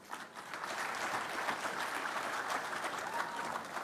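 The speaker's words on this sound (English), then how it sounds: "Another round of applause for our Vice Chair." An audience at the 2023 Devolution Conference in Eldoret claps in a steady, dense round of applause that holds at an even level throughout.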